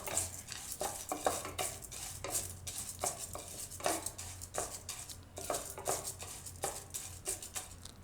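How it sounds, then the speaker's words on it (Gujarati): Jowar grains dry-roasting in a kadai for mixed millet chikki, stirred continuously with a spoon that scrapes and rattles the grains in quick, even strokes, close up with a faint sizzle and no voices. "અને એમાં આપણે પહેલાં જુવાર નાખીશું. તો આને આપણે શેકી લેવું."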